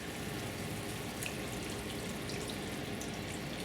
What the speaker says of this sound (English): Then what we need to do is now add the vinegar.